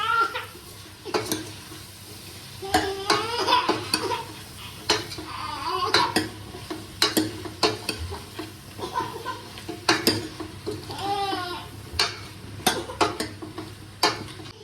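Brinjal and okra pieces stirred in a metal pot while making sambar, with a spoon clanking and scraping against the pot in repeated sharp strokes and a soft simmer underneath, close and fairly loud.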